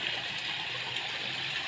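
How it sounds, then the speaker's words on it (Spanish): Spring water rushes out under pressure at a hacienda, a steady, close, broadband gushing hiss that runs unbroken throughout with no talk over it. "Mucha agua. Mucha agua."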